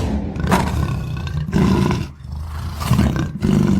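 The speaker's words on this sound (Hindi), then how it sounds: "मुझे तो यहाँ बाघ के गुर्राने की आवाजें सुनाई दे रही है।" A tiger growls and roars in loud, rough bursts, several deep snarling phrases separated by short pauses, close and alone with no talk.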